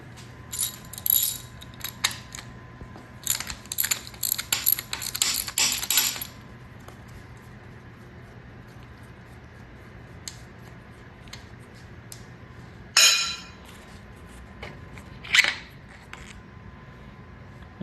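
Hand tools strip parts from a Ford 5.0 GT40P engine, giving scattered metallic clinks, taps and jangles in short bursts over a quiet background, with louder clanks near the end.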